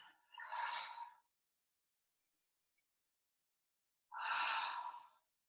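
Two deep breaths during a yoga session, each a slow, airy exhale or sigh about a second long, separated by several seconds of silence, close and fairly soft with no talking.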